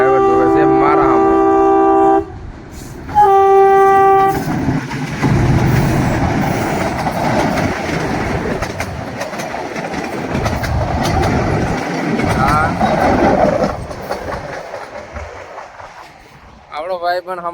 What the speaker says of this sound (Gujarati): અમારી ટ્રેન તો આવી ગઈ